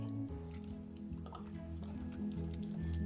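Gram flour batter mixed with water by hand gives soft wet squishes and drips, close and quiet, continuing through a short stretch over faint background hum.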